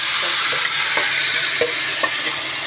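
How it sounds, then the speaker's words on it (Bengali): Sliced onions frying in hot oil in a home kitchen, a continuous loud sizzle with faint stirring taps throughout. "আমার পেঁয়াজগুলো এখন হয়ে গেছে, এখন তেলে দিয়ে দিব।"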